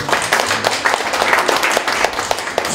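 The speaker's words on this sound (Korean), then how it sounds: "일단 박수 크게 한번 쳐야 됩니다" A lecture audience at a CEO course claps together in a loud, dense burst of applause that holds steady for a few seconds.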